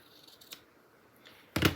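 A single crisp snip of ribbon scissors trimming a frayed ribbon end while finishing a handmade card, loud and close, with a few faint paper rustles just before.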